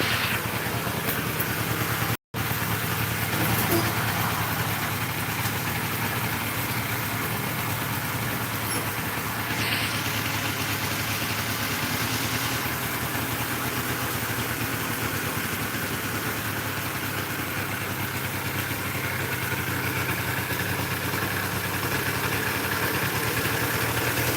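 A Yamaha Razz scooter engine idles steadily at close range for the full stretch while burning off oil, a continuous even drone with a brief dropout near the start.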